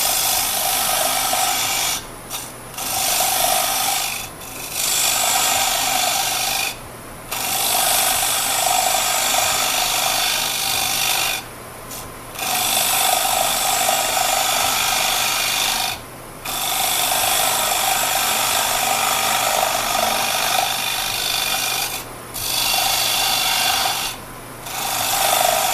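A carbide tool cutting a wooden bowl held on a woodturning lathe, giving a loud, continuous scraping rasp over a steady motor hum, broken by several short pauses as the tool lifts off.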